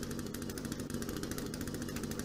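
A chainsaw runs in the video game The Forest, a faint, rapidly pulsing buzzing engine that continues without pause over the short stretch.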